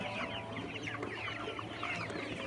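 A flock of 67-day-old layer pullets clucks and chirps continuously in a farm shed, many overlapping close calls over a steady background hum.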